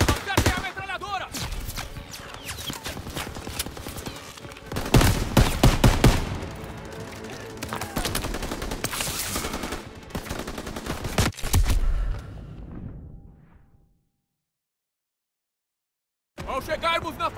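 Machine-gun fire rattles in dense sustained bursts during a beach assault in Call of Duty WW2, mixed with battle noise and shouted soldier voices, then drops to silence before resuming.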